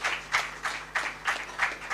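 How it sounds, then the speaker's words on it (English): Audience clapping comes in a few distinct rhythmic waves, each burst of hand claps rising and falling at a moderate level in a quiet hall at a disability-rights event. "Please clap as I continue."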